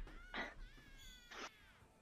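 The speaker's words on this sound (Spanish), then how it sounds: "¡Gatito! ¡Oh, gatico!" Two distinct cat meows, each short and fairly clear, spaced about a second apart over a quiet background with no talk.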